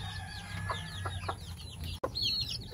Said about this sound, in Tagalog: Yung ating black meat chicken mga ma'am sir, may sisiw na po mga ma'am sir oh.